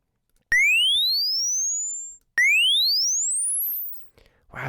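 Two long synthesized retro chiptone sound effects made in Chiptone, each a bright tone sweeping steadily upward before cutting off, loud and clean, followed by a brief noisy burst.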